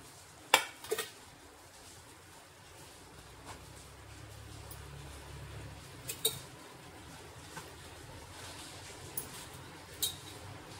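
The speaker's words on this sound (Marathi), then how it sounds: "आता आपण ह्यामध्ये खोबरं टाकून घ्यायचं आहे" Grated fresh coconut stirred into a hot sugar mixture in a pan, giving a soft, steady sizzle under scraping spoon strokes, with a few sharper clanks against the pan.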